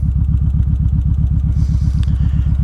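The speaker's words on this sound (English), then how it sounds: "So I'm on the bike, it's wet out." A motorcycle engine thrums steadily up close with a rapid, even pulsing beat on a wet road, loud and continuous with no talk.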